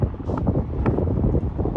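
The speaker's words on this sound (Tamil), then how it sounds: "காற்று நல்லா அடிக்குது." Wind gusting across an outdoor cricket ground during a morning league match, a soft continuous rumble buffeting the microphone, alone with no talk.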